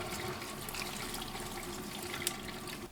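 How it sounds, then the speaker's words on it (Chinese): Spinach leaves rinsed under a running kitchen tap, a steady close trickle and splash of water lasting throughout without pause. "把菠菜用流动的清水多清洗几遍，去除多余的农药和灰尘。"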